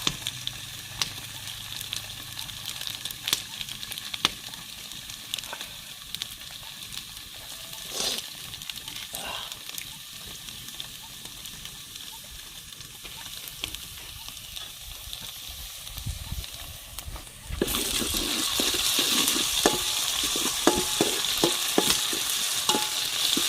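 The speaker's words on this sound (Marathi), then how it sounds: "कांदा आपला चांगला भाजला, थोडासा ब्राऊन झाला आहे बघा" Onion fries in a pan with garlic ginger paste, a soft crackling sizzle with stirring scrapes, growing louder and denser near the end.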